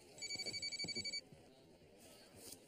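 A dropped mobile phone, recently fished out of a puddle, rings with a rapid pulsing electronic tone for about a second, then stops and leaves a quiet room background.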